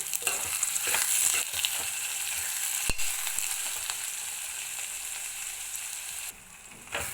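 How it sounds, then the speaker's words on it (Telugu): Onions and green chillies sizzling steadily in hot oil in a pan for an onion egg curry, a continuous close hiss with occasional stirring scrapes and a brief sharp click partway through. "చూడండి ఆనియన్స్ అనేవి చాలా బాగా ఫ్రై అయిపోతున్నాయి"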